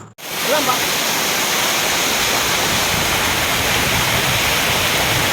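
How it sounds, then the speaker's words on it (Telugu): A waterfall and flowing water roar steadily in Maredumalli forest, a dense, continuous broadband rush that fills the whole clip at close range after a brief quiet start. "ఒకసారి ఆ water sound and nature sound అయితే వినండి."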